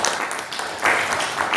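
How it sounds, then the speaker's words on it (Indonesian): An audience at a poetry reading breaks into applause after a poem, a short burst of scattered, fairly close clapping that swells slightly toward the end, with no voices over it. "Tepuk tangan."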